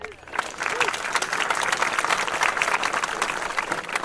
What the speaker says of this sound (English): we're getting some clapping as well.